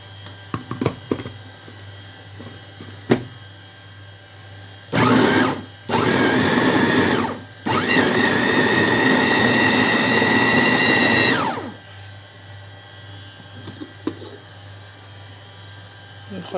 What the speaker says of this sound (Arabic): هنضربه في الكبة